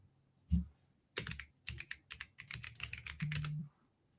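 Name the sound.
fast typing on a computer keyboard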